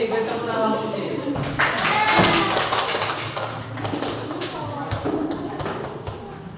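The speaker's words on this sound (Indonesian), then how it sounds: "beri tepuk tangan kelompok kucing" Classroom applause for a presenting group of teachers, a dense stretch of many hands clapping at close range, mixed with taps and thuds and voices speaking over it.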